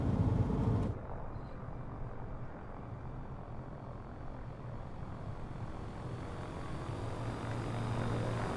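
Steady propeller drone of a JMB VL-3 light aircraft engine in Microsoft Flight Simulator, rolling out after touchdown, with a sharp louder burst at the very start before settling into an even hum.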